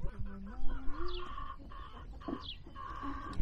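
Chickens cluck and murmur inside a chicken coop, several birds close by giving short repeated calls and rising notes over a low background rumble.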